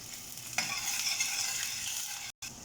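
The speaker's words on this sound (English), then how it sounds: "Spring onion garlic in. And now we mix egg." Egg being stirred into spring onion and garlic frying in hot oil for egg fried rice, a steady close sizzle with scraping stirs, briefly cutting out near the end.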